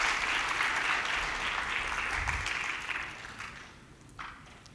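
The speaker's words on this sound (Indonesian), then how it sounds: "Tepuk tangan dulu untuk SMP Islam Terpadu Al-Ibroh" A crowd applauds at a school graduation ceremony for an Islamic junior high school, with dense, steady clapping that gradually tapers off toward the end.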